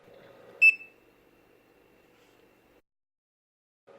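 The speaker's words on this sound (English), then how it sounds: "The encoder will then beep to signal that a card has been encoded." A hotel card encoder for an Opendoor lock gives one short, bright beep after a key card is encoded, heard close and clean over a faint low hum.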